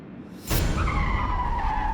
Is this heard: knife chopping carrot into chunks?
no